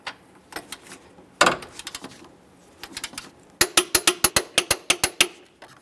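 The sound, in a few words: ratchet tightening 15mm engine mount bolts on Ford Fusion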